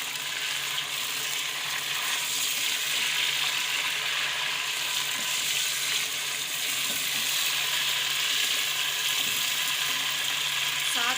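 Chicken frying in hot oil with half-fried onions for a chicken dal recipe, a continuous loud sizzle with occasional stirring scrapes, steady for the whole stretch and without talk.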